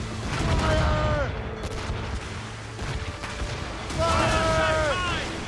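Ship cannons in the Assassin's Creed Rogue naval battle boom repeatedly over a dense, rumbling din of gunfire and explosions, while crew voices shout loudly throughout.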